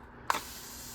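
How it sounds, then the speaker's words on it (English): A single short squirt from a plant spray bottle in an indoor garden, a quiet hiss that starts abruptly and fades within a fraction of a second. "I also got this spray bottle here that like sprays differently and like has like a lasting spray."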